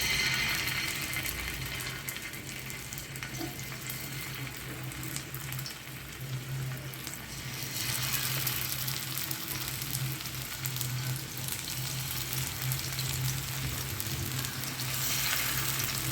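Masala-coated anchovies frying in plenty of oil on a dosa tawa, a dense, even crackling sizzle that carries on close and steady, rising a little louder partway through.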